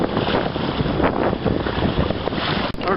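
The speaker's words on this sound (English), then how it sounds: "There's the water going below us." Water rushing beneath a MacGregor 26X sailboat under way with a bungee cord at the helm, a steady broadband wash with wind buffeting the microphone, continuous and close, no talking.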